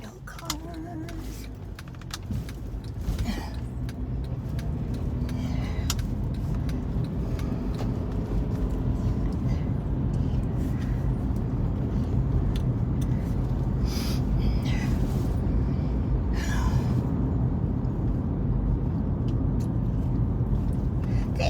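A car drives along, heard from inside the cabin: a steady low road and engine rumble runs throughout, with occasional light clicks and rattles, and no talking.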